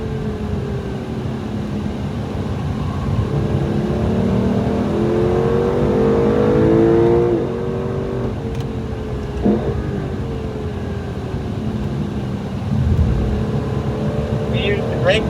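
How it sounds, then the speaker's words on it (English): A race car on track at COTA braking for turn 12, its engine note falling and shifting as it slows, loud and steady inside the cockpit under a running voice. "Braking as we get ready for turn 12."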